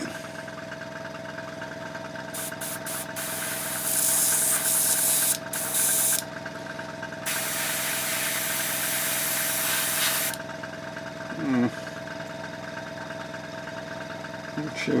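An airbrush compressor hums steadily while bursts of hissing spray paint the wheels of a 1/35 scale model tank, the spray starting and stopping in several short runs over the motor's constant drone.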